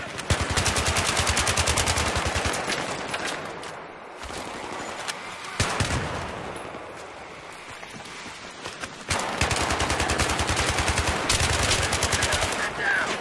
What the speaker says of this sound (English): this is one of the hostile machine gunners